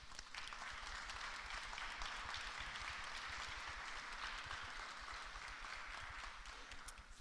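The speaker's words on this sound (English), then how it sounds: "if you wouldn't mind just standing so we can give you a round of applause for all the hard work" Sustained audience applause fills a community boundary meeting hall as the boundary committee members stand, a dense, steady wash of clapping from many hands that holds at an even level throughout.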